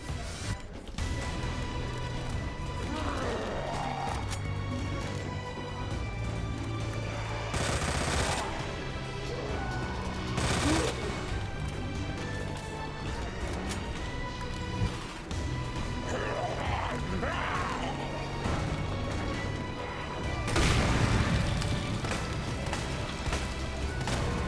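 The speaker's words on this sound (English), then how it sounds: "Which means I'm going grenade launcher." Grenade launcher fire and explosions in a horror video game, with repeated loud bursts and booms over continuous dense game noise and music, under intermittent talk.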